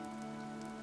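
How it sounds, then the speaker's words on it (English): Rain falls steadily in a video game, a continuous even patter layered over a low sustained tonal hum, with no voices. "This rain threatens a coming storm."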